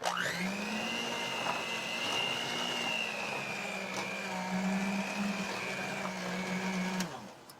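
An electric stand mixer beats powdered sugar into zucchini carrot muffin batter, whirring at a steady high motor pitch that drifts slightly before stopping abruptly, close and alone with no talking.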